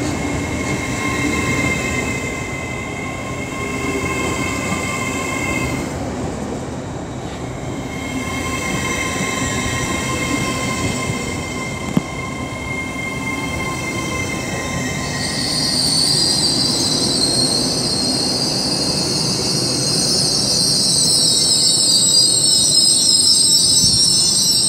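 A Class 801 train rolls through Peterborough station on the East Coast Main Line with a steady rumble, high-pitched wheel squeal rising toward the end, loud and close.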